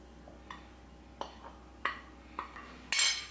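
Spoon stirring a roasted nut powder mixture in a pan for protein laddu, sharp close scrapes and clinks against the metal at a loose rhythm, five or six taps ending in a brighter rattling scrape, with no talking.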